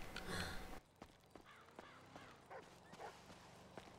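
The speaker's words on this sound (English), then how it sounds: "there's some birds to kill" Crows caw a few times at middle distance in the open-world game GTA 5, short harsh calls scattered over quiet ambient game sound after a brief louder burst at the start.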